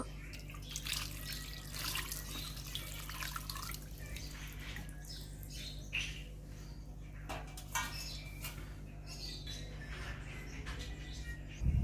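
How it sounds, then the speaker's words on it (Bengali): Steady running water pours and splashes into a cooking pot for several seconds, a continuous close hiss with faint clinks, ending in a louder bump. "এরপর পানি দিব"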